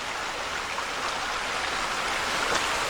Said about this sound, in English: Now we get the sound of water.